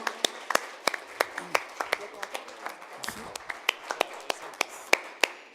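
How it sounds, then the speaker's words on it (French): Applause at a forum on valuing diversity and fighting discrimination, heard as sparse, distinct individual claps from a small audience, spread unevenly across the moment with a faint murmur of voices underneath. "Je vous demande qu'on applaudisse M. Méran chaleureusement."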